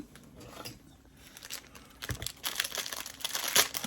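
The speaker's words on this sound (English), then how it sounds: "we've got some cleaning patches here. So you have to cut open." A packet of gun cleaning patches for an Umarex SA 10 air rifle being cut open, with close, soft crinkling and crackling of the wrapper, growing louder toward the end.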